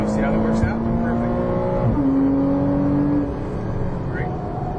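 A Ferrari 458 Italia accelerates around a Las Vegas race track, its engine note rising loud and close through the gears with a shift midway, while an instructor talks over the engine.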